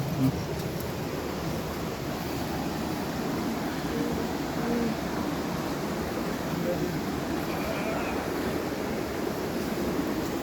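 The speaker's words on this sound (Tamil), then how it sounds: "ஒரு சுத்தமான அருவியிலேருந்து வர தண்ணி." Clean water from a hidden waterfall pours in a steady, broadband rushing wash that holds even across the whole stretch, with voices faintly audible in the background.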